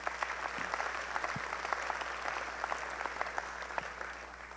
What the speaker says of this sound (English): Let's give a round of applause for those points.